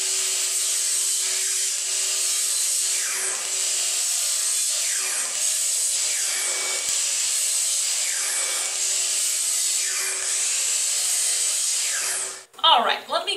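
A saw cuts through pallet wood boards in a steady, loud, continuous rasping run of repeated strokes that stops abruptly near the end, when a voice briefly comes in.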